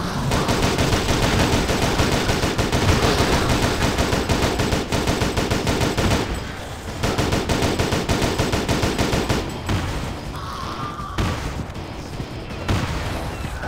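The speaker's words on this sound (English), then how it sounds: "Need some covering fire!" Automatic weapons fire in the zombie first-person shooter Unkilled: loud, dense, continuous bursts with a short lull around the midpoint, then lighter shooting through the rest.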